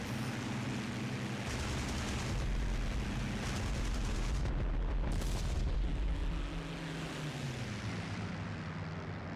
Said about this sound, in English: It could have been ground fire.